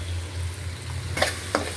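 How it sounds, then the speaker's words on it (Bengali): Spices frying with tomato and onion paste make a close, steady sizzle, with a couple of brief stirring scrapes near the end. "মশলার মধ্যে এগুলো একটু ভাজা নেই"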